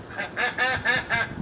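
Ducks at a backyard pond in Florida quack and honk nearby in a quick series of four or five nasal calls, loud and rhythmic with a little background noise.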